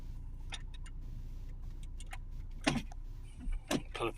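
A Volvo V70 D3/D4/D5 2.0 five-cylinder diesel with an automatic gearbox idling as its transmission fluid circulates, a low steady engine rumble under a few sharp ticks and clicks.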